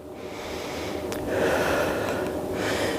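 Steady breathing in and out during mini squats in a muscle-strengthening workout, a continuous airy rush with a stronger exhale swell midway, heard alone without talk.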